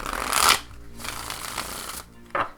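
A Tarot of a Moon Garden card deck being shuffled: crisp, fluttering riffles of cards in two or three quick bursts, close and fairly loud, with a softer rustle between them.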